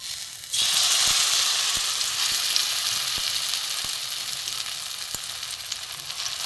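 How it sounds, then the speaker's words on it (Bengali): Egg and potato mixture frying gently in a little oil in a pan over low gas, a steady close sizzle that swells as the mixture goes in, with a few soft scraping ticks. "কড়া বসিয়ে তেল অল্প তেল দিয়েছি গ্যাসও আমার কমানো এখানে যে আলু ডিমের মিশ্রণটা আছে সাদা অংশটা যে মিশ্রণটা করেছিলাম এইটা আমি আস্তে আস্তে বসিয়ে দেবো"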